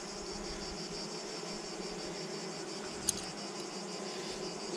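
A honeybee colony already prepared for winter buzzes at its hive with a steady, dense hum held close and even throughout, broken only by a couple of faint clicks.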